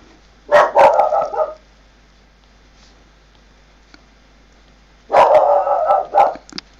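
A dog barks in two short bursts of several quick barks each, separated by a few seconds of quiet, fairly close and loud in an otherwise still room.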